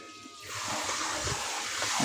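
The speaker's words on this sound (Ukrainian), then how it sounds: "На таком режиме, на минимуме ось як лється вода." Water from a portable battery-powered shower starts flowing on its minimum setting and settles into a steady, soft hissing stream, close by.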